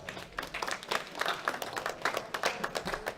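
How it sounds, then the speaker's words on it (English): Steady applause from the crowd at a junior men's 74 kg classic powerlifting world championship fills the hall for the squat finalists, moderately distant and continuous with little talk. "Give them all a big round of applause."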